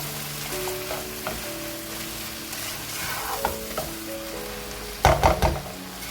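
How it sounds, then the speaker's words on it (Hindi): Okra fries with onions and tomatoes in a pan for bhindi pyaz, a steady close sizzle with stirring scrapes and a burst of louder clatter near the end. "ये देखिए हमने भिंडी को भून लिया प्याज के साथ मिक्स करके"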